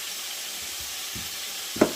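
A quiet, steady sizzle of meat frying in oil for chili, with a soft clink of a utensil near the end.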